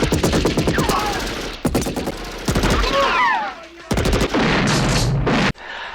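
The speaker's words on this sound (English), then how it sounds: "Shooting big guns." Gunfire from the action film Commando: loud bursts of automatic fire and single heavy shots come in rapid clusters, mixed with whizzing movie sound effects and brief gaps between volleys.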